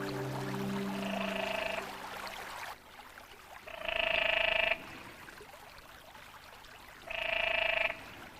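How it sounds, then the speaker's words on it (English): Three bursts of loud, buzzy trilling calls from courting canyon tree frogs in rock pools, spaced a few seconds apart, over trickling water and distant faint croaks. "the pools ring with the sound of courting canyon tree frogs"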